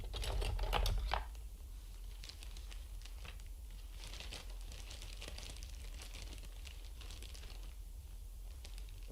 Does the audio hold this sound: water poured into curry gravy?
no